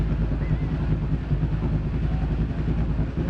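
A car in a racing video game played on a Logitech G29 wheel, its engine a loud, steady low drone that holds throughout without clear gear changes, with no talk over it.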